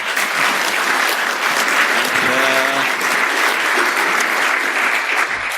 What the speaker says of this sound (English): How about a round of applause for Shawn?